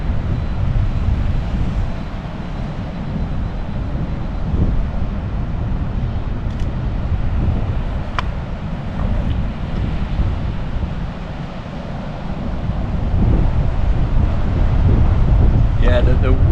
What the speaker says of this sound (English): the wind is so strong. You'll probably hear it on the actual on the mics